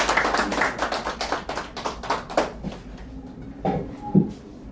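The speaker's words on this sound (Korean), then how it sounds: "박수로 환영해 주세요." An audience at an academy's opening ceremony for a speech and small-business management course claps in welcome as the director is invited forward; dense, fairly close clapping fills the first half, then thins into scattered taps and a few knocks.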